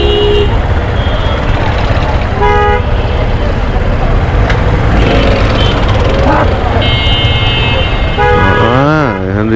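Car and bus horns toot repeatedly through a dense traffic jam on the roads of Gulistan and Motijheel, Dhaka, with steady rumbling road noise underneath and a rising-falling horn near the end.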